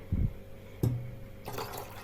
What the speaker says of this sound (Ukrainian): Демонструю злив води.